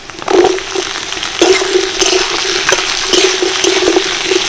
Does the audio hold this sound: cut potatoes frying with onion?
yes